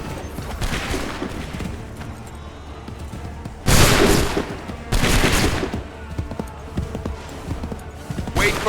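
A volley of musket gunfire in Assassin's Creed 3, with loud, ragged bursts of overlapping shots that swell into two heavy salvos near the middle, while voices shout orders in between.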